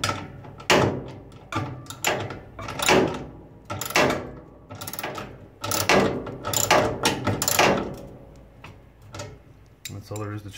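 Last screw going into a Whirlpool Duet dryer after a heating element swap: repeated close metallic clicks, ratcheting and clanks come in short bursts with pauses between them.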